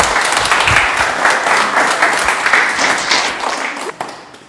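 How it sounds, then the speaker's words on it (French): An audience bursts into loud, dense applause for a dancer's zouk performance at a filmed Antillean show, the clapping tapering off toward the end. "On applaudit."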